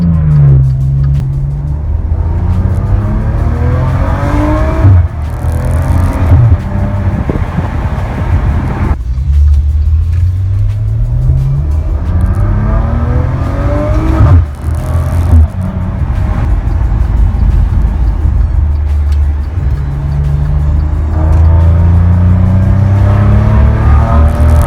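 A Maserati Ghibli S Q4 engine growls and revs loudly, rising in pitch through each gear before dropping sharply at the shifts, repeating several times up close.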